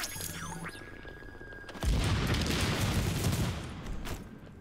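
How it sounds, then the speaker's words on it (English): A grenade blast in the video game Tom Clancy's The Division, with quieter game sounds giving way to a sudden loud explosion and a roaring rumble of continued firing that slowly fades. "I'm tossing my awesome secret grenade"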